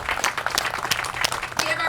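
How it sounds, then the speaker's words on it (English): Audience applause at a community library event, dense scattered clapping from a crowd that sounds fairly close and fills the whole short stretch, with speech mixed in. "we can hold the applause, although sometimes people just can't help themselves"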